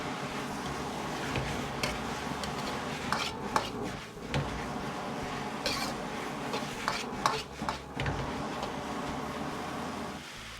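Shredded potato with green and red pepper strips is stir-fried in a wok, with a close, continuous rhythm of spatula scraping and clanking against the metal under a steady sizzle.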